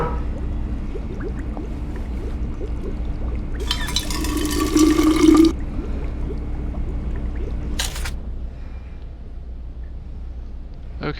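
A burst of water pouring in the video game We Happy Few splashes for about two seconds over a low ambient hum, followed by a short sharp clatter.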